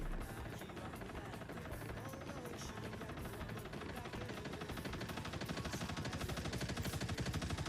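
Sustained rapid gunfire from bots in the Marvel Rivals video game, a dense, steady rattling barrage that runs unbroken throughout at constant loudness, with no talking.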